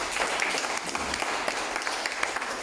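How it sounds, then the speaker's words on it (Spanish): A church congregation gives strong, continuous applause, with many hands clapping in a dense, even wash heard up close and without talk over it. "Denle un fuerte aplauso."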